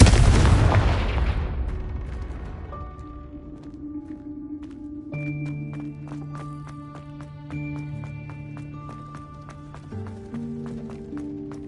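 A loud burst from the Confringo fire spell exploding at the start, fading into tonal game music and chiming effects in Hogwarts Legacy.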